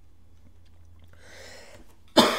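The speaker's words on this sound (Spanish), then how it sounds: "Cuando me da la tos, así me da." A single sharp cough bursts out loudly near the end, after a quiet stretch of faint room noise, from a person playing a Captain Tsubasa football game.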